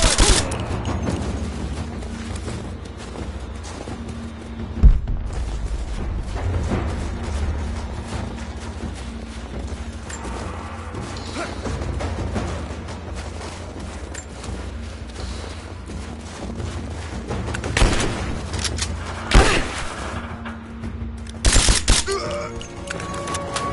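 Gunfire in the video game Rise of the Tomb Raider: a dense, continuous battle din with scattered louder bursts and booms over roughly twenty seconds, with a few sharp loud shots near the end.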